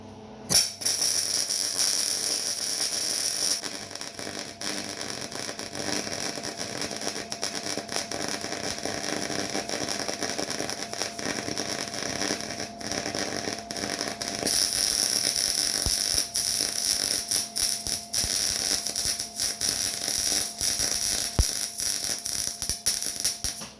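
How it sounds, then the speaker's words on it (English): Welding in a home workshop while building a cooling tray for a grinder stand produces a continuous harsh crackling buzz with pulsing texture, steady and close for the whole span. "Do some welding."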